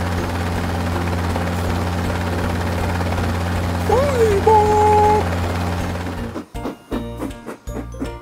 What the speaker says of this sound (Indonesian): Lihat, ada helikopter sedang terbang.